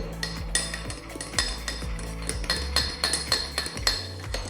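A big spoon stirring hot milk, rapid repeated metallic clinks and scrapes against the container in an uneven rhythm, close and fairly bright, with no talking.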